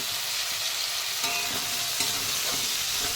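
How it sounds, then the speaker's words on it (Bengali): Meat and potatoes with cumin frying in a pan, a dense continuous sizzle close by with soft stirring scrapes running through it, no speech. "আলুটা আর একটু ভাজা ভাজা হোক তার সঙ্গে মাংসটা আর একটু ভাজা হয়ে যাবে"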